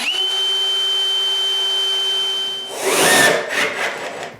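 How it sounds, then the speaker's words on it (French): A power drill whines steadily while boring into plywood panels for a bathroom vanity, then cuts off into a burst of rough grinding and clattering of the bit biting the wood. "je peux percer les contreplaqués. Ensuite, je les visse en place."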